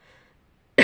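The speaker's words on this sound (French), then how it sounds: "Vous voyez, je tousse." A single short, sharp cough bursts out near the end after a near-silent moment, loud and close.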